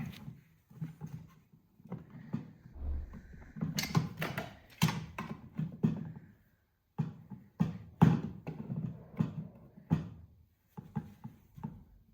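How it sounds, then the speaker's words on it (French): A plastic hose connector is screwed onto the brake bleeder of a 1990 Alfa Romeo Spider, heard as scattered faint clicks, creaks and plastic ticks in irregular bursts with short pauses between. "Donc on visse le cordon."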